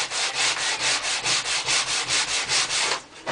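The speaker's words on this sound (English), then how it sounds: "P180 sandpaper, and this again just helps to smooth out some of the little" Hazel bow wood sanded with P180 sandpaper: quick, regular back-and-forth scratchy strokes, about a dozen close, steady rubs before stopping.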